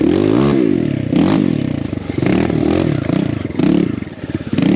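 A BBR KLX170 dirt bike revs and bogs loudly up close along a snowy enduro trail, the engine pitch rising and falling constantly, with clattering and scraping mixed in.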